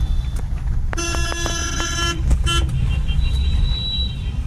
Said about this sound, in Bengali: হরেনটা মনে হয় বমি করছে নাকি? হ্যাঁ খ্যাক খ্যাক খ্যাক খ্যাক করে।